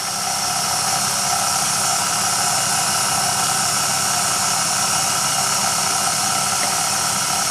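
An electric pasta machine runs as egg noodle dough is rolled through at its widest setting, giving off a steady whirring motor drone with a constant hiss, loud and unchanging across the whole stretch.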